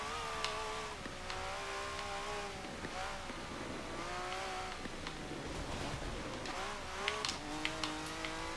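Race car engine revving and shifting through a power slide in Forza 7 on the wet Maple Valley circuit, a steady loud engine drone with rising and falling pitch and brief tire squeals, no talking.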